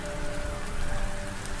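Heavy downpour drumming steadily on surfaces in a forest on a bitterly cold night, a dense, continuous hiss with no breaks and no voices.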